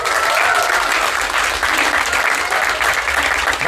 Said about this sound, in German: Applaus für 28 Jahre.